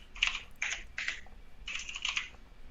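Rapid keystrokes on a computer keyboard come in quick clustered bursts separated by short pauses, crisp and close, with no voices.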